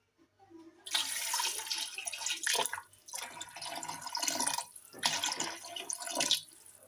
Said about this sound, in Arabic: بركه بركه من الماء.